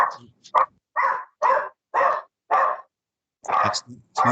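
A dog barks repeatedly in short, loud bursts during an online council committee meeting, about eight barks in irregular rhythm, some in quick pairs, with no other sound between them.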